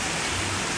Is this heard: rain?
yes